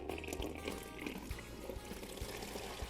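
Water drains from the tap of a heated food warmer cart in a steady, close pour, splashing and gurgling continuously with faint knocks underneath.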